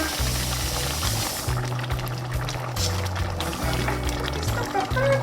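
Tap water running and splashing steadily while a pepper is rinsed in a kitchen, close and continuous under a tonal background of music, with no clear talk.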